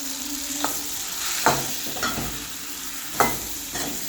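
Chicken sukka sizzles in a pan while it is stirred and tossed. A steady frying hiss runs throughout, broken by a few sharp scraping strokes at uneven intervals. No one speaks.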